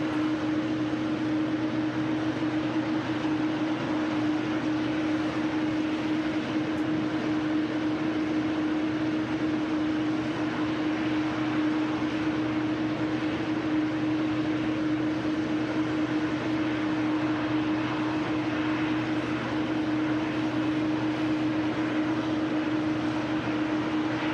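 A TUI aircraft on a repositioning flight at Manchester Airport gives off a steady, continuous engine drone with a sustained tonal hum, holding at an even level throughout with no talk.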